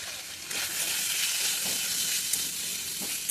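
Vegetables with grated ginger and cumin powder sizzle steadily in a pan for a healthy daliya dish, with soft scraping as they are stirred, heard close and alone.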